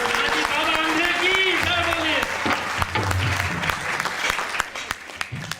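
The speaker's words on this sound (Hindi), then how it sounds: "अंधे रवि जी के लिए जोरदार तालियां।" An audience claps steadily throughout at a Holi celebration at Vishwa Hindu Mandir, with the applause filling the room while voices and music carry on over it.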